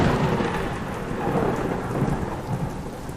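Rain and thunder sound effect in an animated Hindi village horror story: heavy rain pours continuously while deep thunder rumbles beneath it across the whole short stretch, loud and close.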